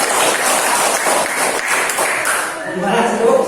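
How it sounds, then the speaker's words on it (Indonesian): Classroom applause from a group of seventh-grade students, a brief burst of clapping mixed with voices and chatter, fading somewhat toward the end. "Tepuk tangan buat kalian."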